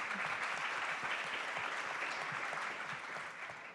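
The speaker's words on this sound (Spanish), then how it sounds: "Un aplauso para Marta." An audience at a literary talk applauds a guest writer, a soft, distant, continuous wash of many hands clapping that fades a little toward the end.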